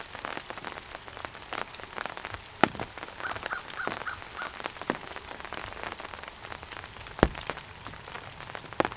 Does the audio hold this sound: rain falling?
yes